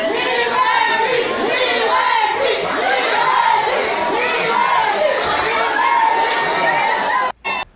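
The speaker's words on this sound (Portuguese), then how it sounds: "a galera vaiando, pessoal, olha isso" A large crowd boos and jeers in a dense, continuous roar of many voices, loud and close, cutting off abruptly near the end.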